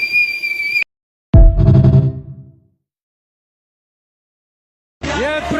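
A single shrill, steady whistle blast sounds for under a second, loud and close, then cuts off abruptly. A heavy thud and other short sound effects follow, with no talk.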